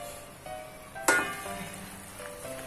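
Paneer curry simmering on a slow flame, a faint low sizzle and bubbling with a brief sharper crackle near the middle, no talking.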